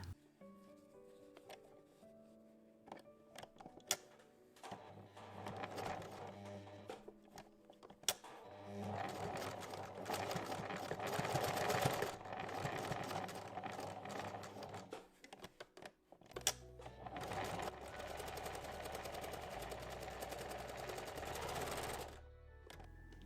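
An electric sewing machine stitches a French seam on a fabric drawstring pouch in several runs of rapid, steady mechanical whirring, with brief pauses and clicks between bursts.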